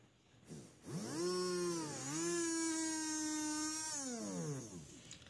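A repaired DC motor running on test spins up with a rising whine, holds a steady high-pitched hum for a few seconds, then winds down.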